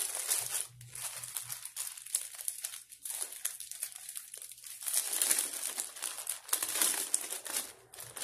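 A blue plastic package around a Joyroom T09 or Haylou T15 earbuds case is opened, giving close, continuous crinkling and crackling plastic sounds with brief tearing bursts and no speech.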